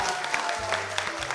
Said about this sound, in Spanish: Fuerte el aplauso de Luca.